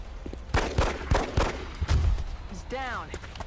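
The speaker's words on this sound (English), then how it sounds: "it's still going to be a kill because Taylor Swift's going to shoot the fucker with her pistol" Several sharp, close gunshots crack in a video game as a character fires a pistol to finish off a downed opponent, mixed with game effects and a rising tonal whine near the end.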